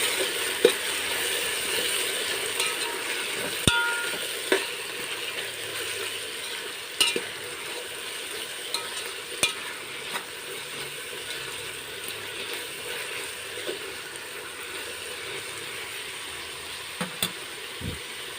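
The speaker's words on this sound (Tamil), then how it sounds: "காய்கறி சோயா எல்லாம் போட்டிருக்கு நல்லா வதக்கி விட்டுருங்க" Vegetables and soya chunks sauté in a pan under a soft continuous sizzle, with scattered sharp clicks and scrapes of a spatula against the pan, fairly quiet and close.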